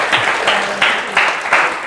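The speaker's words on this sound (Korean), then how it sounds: "오늘 이 질문에 성심성의껏 답해주신 박사님께 다시 한번 큰 박수 부탁드립니다" A lecture audience at a science talk on ceramic 3D printing gives steady, dense applause, close and continuous, with the clapping swelling in a few brief surges.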